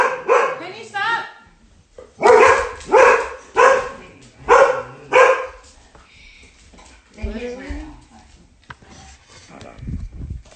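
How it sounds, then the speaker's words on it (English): Several loud dogs bark close by in a home in bursts of four or five sharp barks, followed by softer whimpers and yips, with a person's voice heard between them. "Stop barking at things you don't know"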